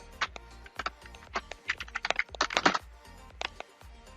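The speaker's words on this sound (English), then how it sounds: "You type your password." Password being typed on a computer keyboard, a close run of quick irregular key clicks with short pauses, clear and alone.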